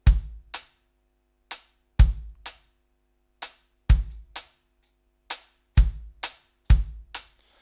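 Drum kit played slowly: deep bass drum thumps alternating with crisp, short closed hi-hat ticks in a sparse, steady pattern, close and dry with silence between hits and no talking.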